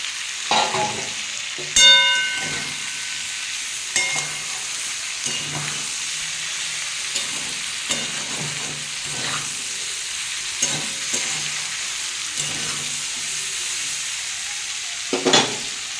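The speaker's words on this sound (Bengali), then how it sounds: "এবার আমি ভেজে রাখা ফুলকপিটা এর মধ্যে দিয়ে দেবো" Fried cauliflower for aloo posto cooks in a pan, producing a steady sizzle broken by repeated scraping and clanking stir strokes at irregular intervals, close and without speech.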